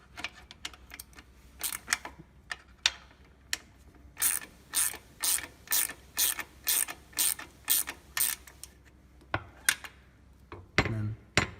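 A wrench ratchets an 18mm nut and washer onto a table foot, giving a series of rapid, evenly spaced clicking bursts, close and distinct, followed by a few scattered knocks.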